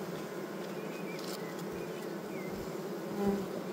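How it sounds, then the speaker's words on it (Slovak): A honeybee colony that swarmed the week before hums steadily in its opened hive, a dense, continuous close buzz with individual bees passing nearby, without any talk. "Teraz vám ukážem to včelstvo, ktoré sa mi minulý týždeň vyrojilo."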